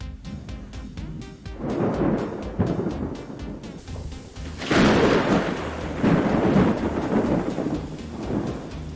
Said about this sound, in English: he needs thunder as the end of the scene